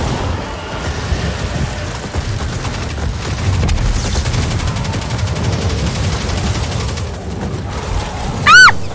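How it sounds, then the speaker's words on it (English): Boss gunfire in the video game Destiny during the Prophecy dungeon, a steady rumbling barrage of rapid shots and booms with a sharp high chime near the end, no talking. "The boss is shooting me."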